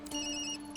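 A phone rings in the video game Tokyo Dark, a short electronic tone with steady ringing pitches, clear and alone.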